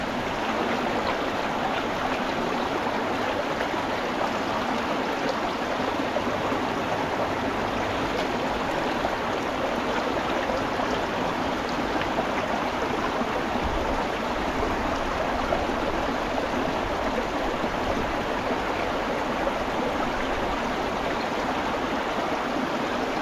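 A creek flows in a steady, even rush of water, close and unbroken for over twenty seconds, with no voices over it.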